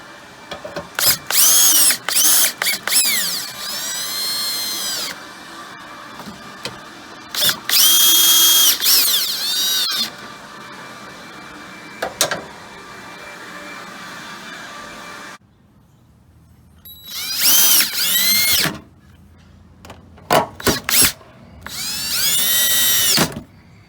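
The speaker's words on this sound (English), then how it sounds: "put these 2 screws back in" A power drill drives headlight screws on a 2007-2013 Chevrolet Silverado, running in several loud, close whirring bursts of a second or two, with short pauses between them and a longer quiet gap near the middle.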